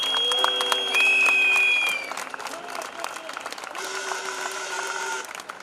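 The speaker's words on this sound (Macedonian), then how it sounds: "Еден аплауз за тие пратеници." A crowd at a political gathering applauds members of parliament, the clapping mixed with voices and whistles and dropping off partway through.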